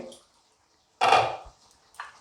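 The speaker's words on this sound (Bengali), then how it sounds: "2 মিনিট বাদে কড়াইয়ের ঢাকাটা খুলে" A lid comes off a kadai of paneer malai curry with one loud metallic clatter, then a lighter clink shortly after, against near silence.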